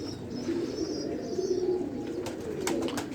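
Rampuri pigeons coo close by in a loft, soft repeated low throaty coos over a constant murmur of background birds, with a few faint sharp chirps near the end.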